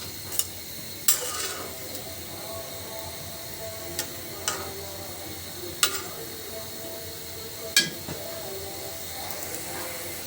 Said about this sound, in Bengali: পানিটা কিন্তু ফুটতে শুরু করছে